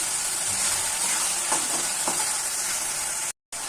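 Spice paste for egg curry fries in a pan with a loud, continuous close-up sizzle and crackle, a few faint stirring scrapes, and a brief break near the end.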